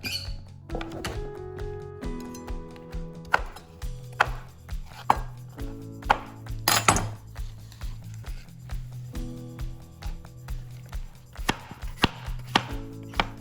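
Knife chopping cherry tomatoes on a cutting board, a steady run of sharp close thunks and taps repeating at an even rhythm under faint background music, with no talking.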